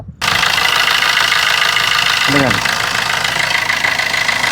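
A Tata diesel car engine cranks and catches almost at once, then settles into a loud, steady, slightly knocking idle that continues unchanged; the engine smokes and leaks oil.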